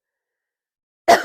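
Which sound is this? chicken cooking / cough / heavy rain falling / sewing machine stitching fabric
cough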